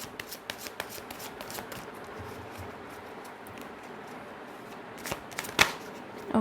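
Tarot cards being shuffled by hand at close range, a quiet run of soft riffling ticks and flutters with a sharper snap near the end, no talking.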